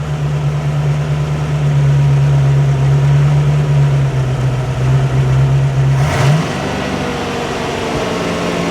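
A barn-find Sunbeam Tiger engine with a sticking throttle catches and runs loud and steady close by, then its pitch shifts abruptly as it revs near the end.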